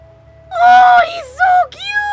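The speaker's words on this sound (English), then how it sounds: "I hear a cat." A cat meows in the video game Legend of Heroes: Cold Steel 2, with a couple of drawn-out, wavering meows, close and fairly loud, over a soft game background hum.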